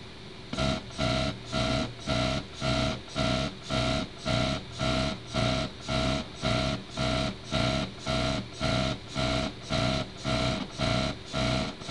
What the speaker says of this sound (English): Right now the axis is moving back and forth based upon the voltage signal.